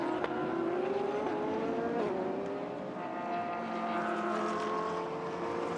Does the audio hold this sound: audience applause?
no